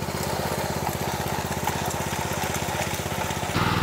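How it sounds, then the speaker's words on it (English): Power trowel machine running on a concrete slab at a carport, a close, steady droning engine with a rapid even pulse throughout, its pitch and loudness shifting slightly near the end. "we put that trowel machine on the carport with a pan"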